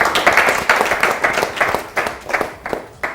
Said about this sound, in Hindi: अपने सारे हॉकी के खिलाड़ियों के लिए हम तालियां दें